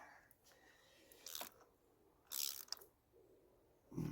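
A torque wrench ratchets and clicks while spark plugs are tightened on a Citroen C1 engine, a few short sharp clicks and ratcheting bursts, close and quiet, with no talk over them.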